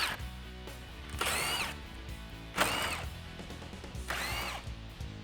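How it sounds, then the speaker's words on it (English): Three short bursts of a power drill spinning out the 10mm bolts along the top of the grille on a 2015-2017 Ford F150, each whine rising then cutting off, close and fairly quiet with brief pauses between. "we can remove the 4 10mm bolts that hold on the top of the grille"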